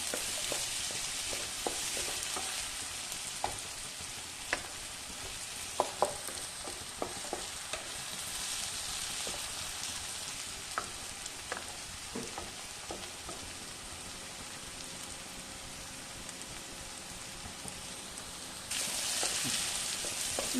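A chilli butter paneer masala sautés in a pan with a steady, hissing sizzle while a spoon stirs and scrapes at intervals, giving scattered clinks; the sizzle grows louder near the end.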